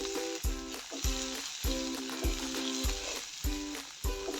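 Sliced onions sizzle steadily in a hot pan for an onion-tomato chutney, with a spoon scraping and stirring in regular strokes about every half second, close up and with no talk.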